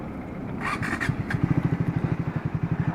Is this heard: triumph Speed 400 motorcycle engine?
yes